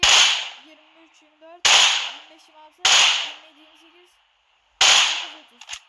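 A Groza rifle fires single shots at a car in a video game: four loud, sharp cracks about a second apart, each trailing off in a short echoing decay.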